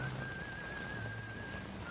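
A thin, steady whistled tone holds almost unbroken throughout, wavering slightly in pitch over a low murmur of background noise.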